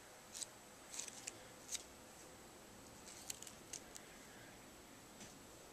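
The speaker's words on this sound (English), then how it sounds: "And then I snip off the rest" Scissors snipping floral wire during a Christmas craft project, a handful of faint, sharp metallic clicks spread unevenly over a quiet background.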